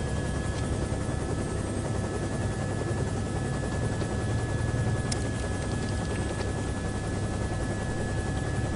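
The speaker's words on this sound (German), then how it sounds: "Ah, da haben wir noch einen Helikopter." Helicopter flying in the video game Ghost Recon Future Soldier, a steady continuous rotor and engine drone holding at an even level throughout.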